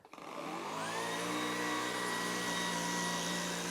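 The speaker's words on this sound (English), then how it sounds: "there's not that many vacuums that are cordless that do really well on shag carpet" A Shark Stratos IZ862H cordless vacuum spins up and runs on shag carpet, a loud, steady whine with a high motor tone that holds evenly after a brief start.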